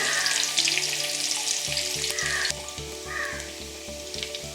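Chopped shallots and half a spoon of mustard seeds sizzle in hot oil in a pan for a drumstick leaf curry, a loud continuous frying hiss with crackles, while crows caw faintly in the background.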